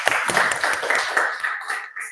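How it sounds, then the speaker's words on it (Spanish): Brief, moderately close applause from a conference audience after a talk, made of scattered individual claps that thin out and fade within about two seconds. "Aplausos, por favor"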